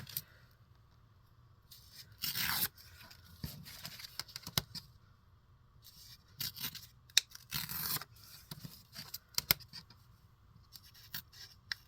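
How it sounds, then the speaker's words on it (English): Paper is torn by hand to make a piece smaller during a craft project with book pages and vellum, heard as several short ripping bursts and soft rustles between quiet gaps, close and fairly faint. "I'm just going to tear it down a little bit more so it's a little bit smaller."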